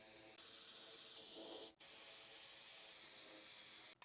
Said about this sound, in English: it did come with a couple of extra sprayers, so I am going to be able to spray from the end of the tube in